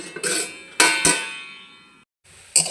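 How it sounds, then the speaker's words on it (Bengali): A metal plate is set over a pot of steaming greens, giving a few close, bright metallic clangs and scrapes with ringing tails, then a short pause and one more clatter. "আবারও আমি থালিটা ঢাকা দিয়ে দিচ্ছি"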